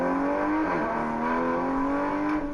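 A car engine revs steadily at close range, its pitch rising and dipping in a sustained, loud roar with no one talking.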